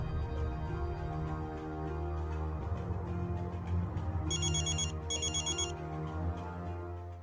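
A telephone rings in a Hindi college romance drama, giving two short bursts of bright electronic trilling over a continuous bed of loud background music, with no one speaking.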